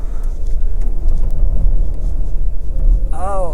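A Ford Explorer strains in sand, its engine giving a close, low, uneven rumble as the wheels fight for grip. A voice speaks over it, and a brief, higher, wavering tone comes at the end.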